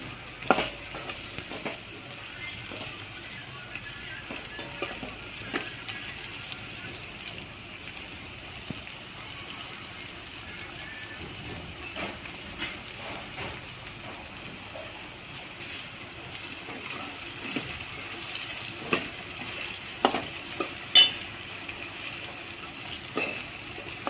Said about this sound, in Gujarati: 4 થી 5 મિનિટ આને શેકી લઈશું।